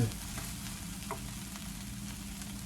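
Vegetables for garden succotash sautéing in a pan, a faint, steady sizzle with a few soft stirring scrapes, quiet and uninterrupted.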